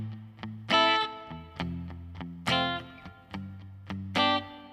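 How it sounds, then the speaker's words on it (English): Electric guitar through a Fender Mustang GTX amp with reverb and chorus plays repeated chords and picked notes with a wet, slightly shimmering tone, each strum ringing out and decaying into a soft reverb tail. "So you can tell I've got a guitar and reverb"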